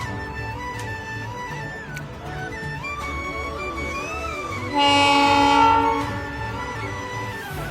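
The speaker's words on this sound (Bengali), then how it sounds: "কত সুন্দর টয় ট্রেন" A small Darjeeling toy train rumbles past with steady rhythmic clatter, then sounds a loud, close, sustained horn near the end, with no talk over it.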